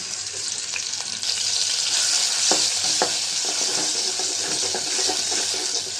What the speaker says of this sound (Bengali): চিংড়ি মাছ পেঁয়াজ রসুন বাটা দিয়ে দিলাম